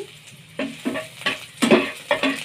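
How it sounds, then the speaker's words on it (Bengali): Onions dropped into hot oil sizzle near the listener, with rhythmic spatula scrapes and stirring bursts about every half second and no talking. "তেল দিয়েছি, পেঁয়াজ দিয়ে দিলাম।"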